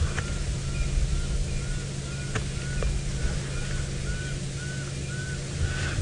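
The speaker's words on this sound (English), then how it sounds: "A little pearl spotted owl." A small pearl-spotted owl calls repeatedly on a sunset safari drive at Tingana, a series of short rising whistles at moderate distance over a steady vehicle engine rumble.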